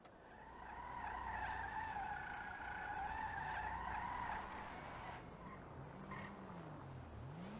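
Ocelot Virtue electric car in GTA Online, a sustained whining motor tone with tire skidding and squeal, loud and continuous, tapering into sweeping pitch changes near the end.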